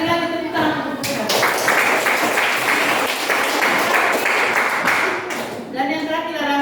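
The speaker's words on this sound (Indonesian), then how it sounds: "Sekali lagi tepuk tangan untuk mereka." Students and teacher in a classroom clap after a group presentation, a burst of dense applause lasting several seconds. A voice is heard briefly before the clapping and again as it dies away.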